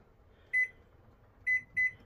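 A microwave oven being set and started: three short electronic keypad beeps, one on its own and then a quick pair, over a faint background hum.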